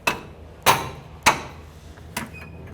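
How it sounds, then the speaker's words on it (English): Three sharp metallic knocks from a rubber mallet hitting the end of a wrench to break loose a tie rod jam nut on a 2009-2014 Ford F-150, spaced unevenly, with a fainter fourth tap near the end. "if needed, use a rubber mallet on the end of your wrench"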